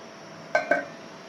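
A spoon stirs chicken curry with golden chicken and jackfruit seeds in a pot, giving two quick metallic clinks in close succession against a quiet background.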